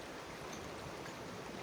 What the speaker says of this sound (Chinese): 你要光听那个后面的溪水的那个白噪音